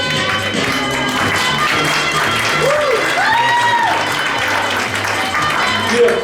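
Audience applause greets a volunteer called up at a magic show, steady clapping over a music bed with a few tonal sweeps, a voice briefly audible mid-clip.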